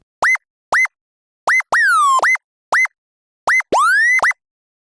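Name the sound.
wip/woop synth sound, monophonic legato with oscillator glide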